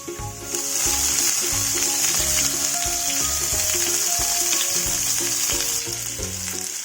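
Garlic, chopped green chilli and curry leaves sizzle and fry in hot oil in a pan, a steady loud crackle with stirring scrapes throughout and background music, no talk.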